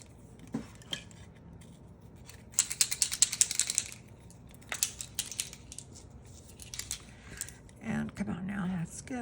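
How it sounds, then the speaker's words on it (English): Scissors trimming excess wax paper around the edge of a craft piece, with a run of crisp snipping cuts and scattered clicks and rustles, close and fairly quiet, while a person talks intermittently. "Go around and trim as close to the edge as you can. Trim off the excess wax paper."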